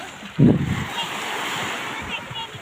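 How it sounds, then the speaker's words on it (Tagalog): Sea waves wash onto a beach at Vinsons in Camarines Norte, a steady surf roar with one louder splash early on. Faint voices can be heard in the background. "Ito ang dagat dito sa Binsons, Barangay, Kalangkawan Zone, Mantig B."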